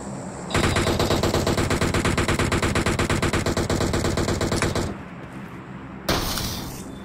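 Rapid automatic gunfire in PUBG Mobile on the Ridgeline map, a loud sustained burst of evenly spaced shots lasting about four seconds, then a pause and a brief second burst.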